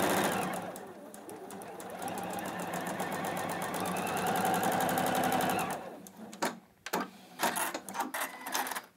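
A Juki HZL-NX7 computerised sewing machine stitches fabric pieces for a quilt block, a steady close, fast needle rattle running for about six seconds before stopping, followed by a few short bursts and handling clicks.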